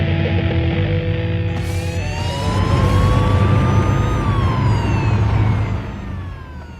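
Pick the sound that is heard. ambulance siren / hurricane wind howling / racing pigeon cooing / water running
ambulance siren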